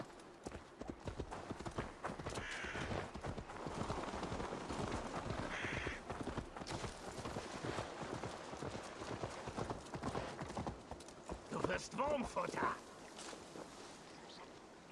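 Horse hooves clip-clopping at a steady, brisk pace in the video game Assassin's Creed Valhalla, a continuous patter of hoofbeats with a voice speaking over it.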